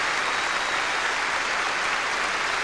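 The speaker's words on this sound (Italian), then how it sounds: "that crowd would applaud anything" A large audience at the Eurovision Song Contest 1994 applauds, a dense, steady wash of clapping that stays loud and even throughout.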